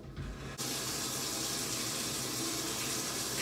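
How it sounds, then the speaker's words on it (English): A shower is switched on and its water starts running, a sudden steady, loud hiss of spray that continues without a break after a short quiet start. "I hear the shower running."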